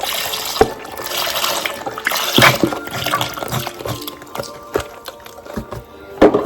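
Crushed tomatoes and broth pour into a soup pot, giving a wet splashing and glugging liquid sound with a few clunks, close and alone with no talk.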